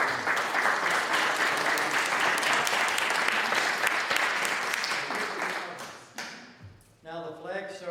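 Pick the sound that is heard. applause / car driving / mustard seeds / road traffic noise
applause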